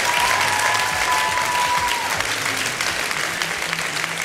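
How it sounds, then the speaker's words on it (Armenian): An audience claps for Avet Barseghyan at a Premiera3 results event, the applause dense and continuous for the full few seconds with a faint voice or tone threading through. "Մինչ հանդիսատեսը ծափարում է Ավետ Բարսեղյանին"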